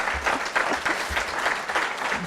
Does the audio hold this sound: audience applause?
yes